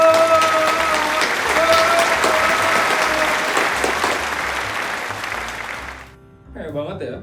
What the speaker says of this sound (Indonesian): Mari kita beri tepuk tangan yang meriah sekali lagi untuk Putri Annabel